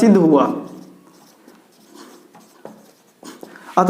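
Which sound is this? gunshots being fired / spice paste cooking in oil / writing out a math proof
writing out a math proof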